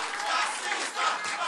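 A crowd shouts and clamors continuously at a public hearing on a bill about psychologists and homosexuality, a dense roar of many voices filling the room.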